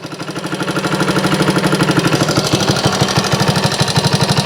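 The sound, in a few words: 1964 Honda CT90 motorcycle engine idling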